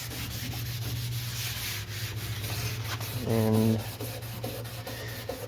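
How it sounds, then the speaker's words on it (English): Red Scotch-Brite pad scuffing a Nissan Pathfinder rear door panel before primer, giving a steady close abrasive rubbing over a low background hum, with a brief tonal whine near the middle. "I can take my red Scotch-Brite and I can go over some of the areas that need to be scuffed up"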